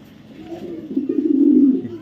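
A pigeon coos close by in a low, soft, rising call lasting about a second and a half, with little else around.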